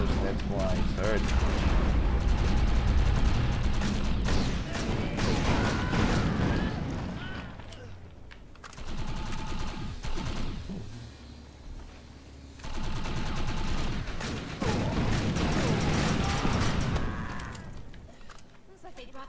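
Sniper and enemy gunfire in the online shooter Defiance 2050, dense bursts of shots and impacts under loud game music and effects, dropping away briefly midway before returning.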